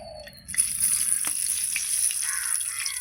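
Dried red chillies dropped into hot oil left from frying fish give a sudden close, bright sizzle that holds steady and loud with no talk over it.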